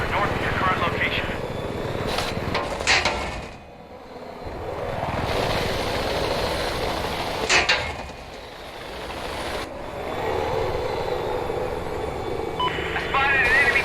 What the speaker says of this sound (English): I got eyes on an enemy helicopter.